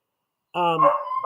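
Dogs bark once in a loud, close, harmonic burst that trails into a whiny yelp, with a short silence beforehand and no talk over it.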